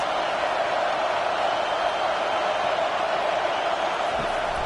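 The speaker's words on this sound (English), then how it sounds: "This crowd trying to make life miserable for this offense." A stadium crowd at a football game produces a constant, dense roar that stays level and loud throughout, with no gaps or distinct voices standing out.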